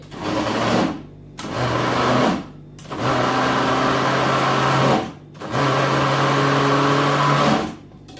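An electric chopper grinds pieces of bread into crumbs, running in four loud whirring bursts separated by short pauses, close by with no speech.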